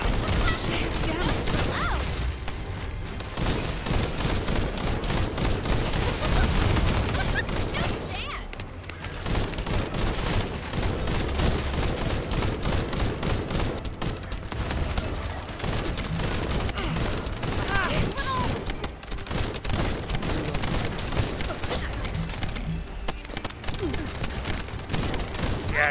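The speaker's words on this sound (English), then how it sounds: "Sound definitely just got glitched out on our firearms." Rapid gunfire from a shooter video game with glitched weapon audio keeps crackling and rattling almost nonstop over game music and effects, with a voice talking over it at times.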